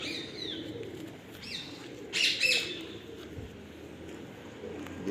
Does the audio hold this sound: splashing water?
no